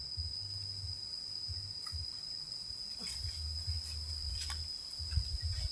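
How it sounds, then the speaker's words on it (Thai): Insects, crickets among them, chirp outdoors in pulsing bursts over a faint steady high whine, quiet and distant, with a low intermittent hum underneath and no voices. "ทีนี้เสียงแมงไม้ด้วยพี่น้องมันสิดัง"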